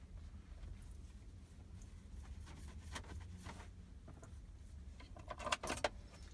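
A car key jingles on its ring and clicks as it slides into the ignition, a short burst of metallic clinks near the end of a quiet stretch of faint cabin hum.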